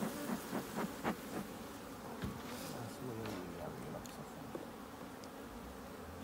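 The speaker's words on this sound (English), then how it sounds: "once the queen leaves, majority of the bees are leaving with her" Honey bees swarm and buzz in a dense, steady drone around a hive that is about to swarm, with a few louder passes close by and people talking in the background.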